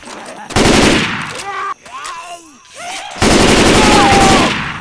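Rapid automatic gunfire in the Left 4 Dead 2 video game, two loud sustained bursts of fire, one early and one late, with shorter reports and voices in between.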